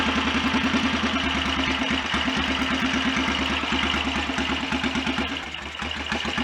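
A BSA DBD34 Gold Star 500 scrambler, a high-compression single, idles unevenly up close, with a rapid loping thump of firing pulses that softens and stumbles near the end.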